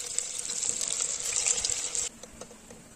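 Egg manchurian balls fry in hot oil, giving a bright, steady sizzling hiss for about two seconds before it drops away to a quiet background.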